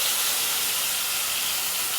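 Ground tomato hits hot spice masala in a kadai, a loud, dense, hissing sizzle that holds steady and close for two seconds with no voices.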